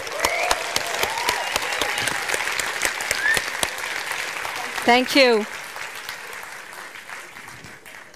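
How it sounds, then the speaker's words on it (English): Audience applause at the IFFR 2019 film festival award, a steady round of clapping from a seated crowd; someone speaks briefly over it midway, and the clapping carries on after. "Big applause for Azerbaijan."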